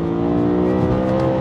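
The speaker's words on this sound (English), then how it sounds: "Just listen to that engine." A BMW E90 M3 engine revs hard, a loud throaty drone with rising tone and no talking over it.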